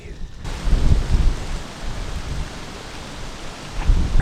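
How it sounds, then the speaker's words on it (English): Cold wind and steady rain wash over an open Illinois public-land hunting spot, a broad continuous rush with gusty swells and low buffeting bursts near the start and end. "it's very cold and windy, and it's raining."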